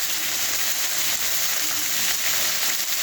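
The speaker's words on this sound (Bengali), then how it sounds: "দুটো কাঁচা লঙ্কা দিয়ে দিব" Green chillies frying in a pan with chopped tomatoes and onions, a steady bright sizzle holding evenly at close range for the whole stretch, with no voices.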